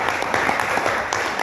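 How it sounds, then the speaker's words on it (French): Applause from a conference audience, a dense continuous patter of many hands clapping at steady volume throughout, with no voices standing out. "On n'a qu'à les applaudir en fait."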